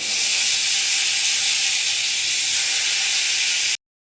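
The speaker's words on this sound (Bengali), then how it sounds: "তেল গরম হলে আমি দিয়ে দিচ্ছি পাঁচফোড়ন" Panch phoron spices hitting hot oil in a pan for a fish and onion-stalk dish, giving a loud, steady hiss and sizzle that holds evenly for almost four seconds before cutting off abruptly.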